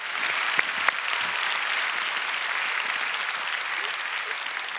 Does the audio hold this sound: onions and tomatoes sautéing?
no